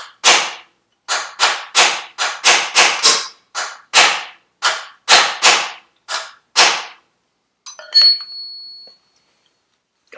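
Metal hammer driving a punch to knock a part through on a Firebird, a run of about fifteen sharp, ringing strikes in irregular bursts, loud and close, ending with a brief metallic clatter.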